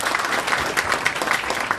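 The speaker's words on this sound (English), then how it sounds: "Yeah, well, round of applause." Steady round of applause from an audience at a business chamber event, dense clapping filling the whole stretch at even loudness with no speech over it.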